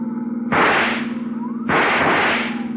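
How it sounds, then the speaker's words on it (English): Two sharp rifle shots crack out in a radio drama, each a loud burst that rings briefly, over a steady hum of car engine noise. "See if you can use that rifle, Dollar."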